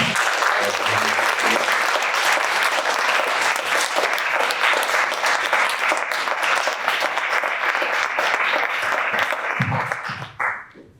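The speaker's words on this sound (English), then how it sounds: "All right, so let's give a huge round of applause." Sustained loud applause from an audience at an engineering night panel, a dense wash of clapping lasting about ten seconds before tapering off abruptly at the end, with a few low voice-like sounds early on.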